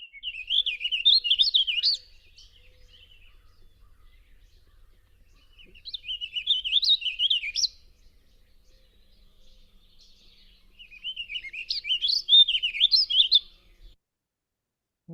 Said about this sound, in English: So let's hear the scribbling bird once more.